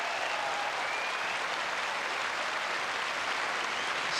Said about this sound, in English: Well, no wonder the applause is prolonged, because after just 27 minutes, rusedski has